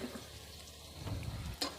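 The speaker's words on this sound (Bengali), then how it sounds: "প্যানের ভিতরে আমরা 2 টেবিল চামচ তেল দিয়ে নিলাম। এখন আমরা হাফ কাপ পেঁয়াজ দিয়ে দেব" Chopped onions hit two tablespoons of hot oil in a pan and fry with a soft, steady sizzle and a faint stirring scrape, close but quiet.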